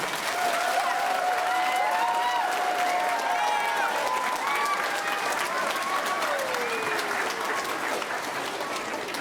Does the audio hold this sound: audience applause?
yes